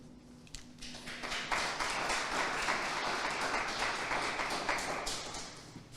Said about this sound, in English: Please give a round of applause as we invite Professor Kupe to the stage.